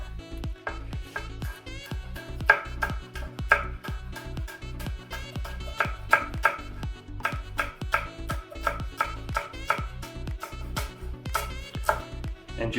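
A knife chopping rolled bundles of fresh herbs into stringy pieces on a board, a steady rapid series of crisp close taps running throughout with no talk.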